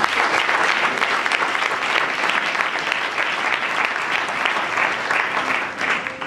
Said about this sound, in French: On va acclamer Jésus très fort pour sa vie.